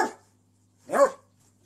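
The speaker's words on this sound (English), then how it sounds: "he's bowing at her at the same time as he's barking at her" A dog barks at another dog in a soft crate, giving two short, sharp barks about a second apart, close and clear with silence between them.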